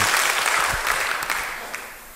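A church congregation claps, a dense burst of applause that tapers off gradually over a couple of seconds.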